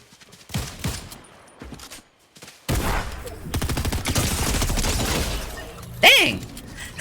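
In Fortnite, SMG fire crackles in a sustained burst of rapid shots mixed with game effects, followed by a sharp rising tone near the end, with brief talk early on.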